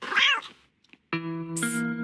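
A cartoon cat gives a short, wavering meow, then after a brief pause a longer, sustained nasal mew, both close and clear with no talking.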